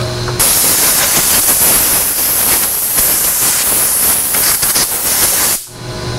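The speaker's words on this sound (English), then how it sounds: "So back it off, get the air hose" A compressed-air hose blasts chips out of a milled kerf around a large hole drilled with a mill, giving a loud, steady hiss that runs for several seconds and then cuts off abruptly near the end.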